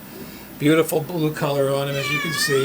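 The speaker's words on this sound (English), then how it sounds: "That's my cat" A pet cat named Alice, kept in a fish room near an aquarium, gives several clear, close meows, rising and falling, while someone speaks over and between them.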